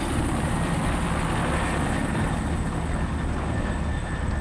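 A helicopter in the video game Far Cry 6 makes a steady, loud rotor and engine drone with a rhythmic chop that holds unbroken throughout, with no voices over it.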